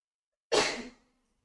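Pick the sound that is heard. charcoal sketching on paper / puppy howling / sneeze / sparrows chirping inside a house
sneeze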